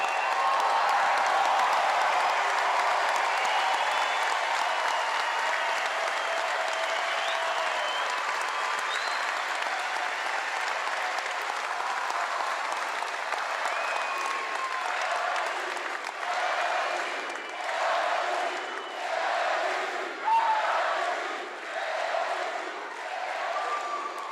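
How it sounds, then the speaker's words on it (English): A stadium crowd at a college baseball national championship celebration gives a sustained standing ovation, with dense applause that gradually thins into scattered individual claps. "You guys stand up and give the 2025 national champions a standing ovation."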